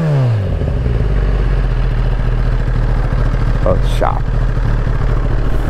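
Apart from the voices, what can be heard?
Kawasaki ZX10R motorcycle engine idling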